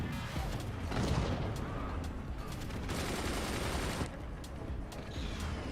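Cannons fire in the strategy game Forts, making dense, continuous volleys of booming blasts and mechanical rattling that stay loud throughout without any talk.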